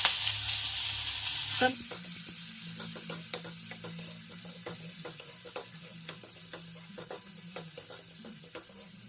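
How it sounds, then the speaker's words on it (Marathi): A crushed paste of garlic cloves, green chili and cumin hits hot oil with a sudden burst of sizzle, then settles into a steady frying hiss punctuated by regular stirring clicks, with no voices. "तेल तापलं आहे मी ठेचा टाकत आहे याच्यामध्ये लसण पाकळी आहे मिरची आहे जिरा आहे"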